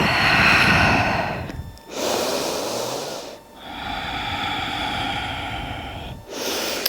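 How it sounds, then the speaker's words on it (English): During a yoga stretch, a person takes slow, deep breaths close by, with long audible inhales and exhales in a repeating rhythm separated by short pauses. "Breathe."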